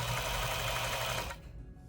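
A blindstitch sewing machine runs with a steady, dense mechanical whir and rapid stitching rhythm, close and loud, then abruptly stops and leaves a faint residual hum.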